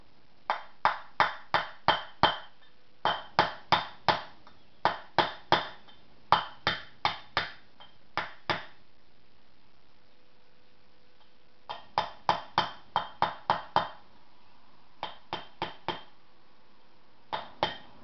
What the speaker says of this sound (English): you just take a mallet, a hammer, and just knock it in.